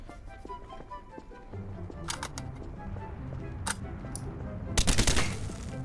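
Gunfire rings out in a horror video game: scattered sharp bursts of shots over a low background rumble, growing denser and louder toward the end.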